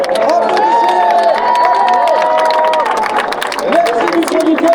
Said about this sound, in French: on souhaitait que vous faites un tonnerre d'applaudissements et un grand bravo à tous les bénévoles qui font vivre le Tour de France partout